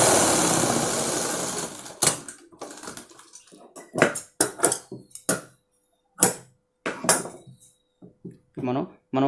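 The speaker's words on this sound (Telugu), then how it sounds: "మనం ఇప్పుడు ఒక కుట్టేసుకోవాలండి ఈ లైనింగ్ పైన." A sewing machine stitches a blouse lining in short, fast bursts separated by pauses, each run a close mechanical rattle, with brief clicks and handling noises between.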